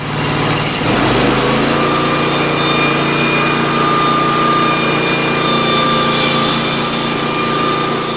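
A Norwood HD36 portable sawmill runs loud and steady as its blade cuts through a log, a continuous high engine whine with a sharp start at the beginning.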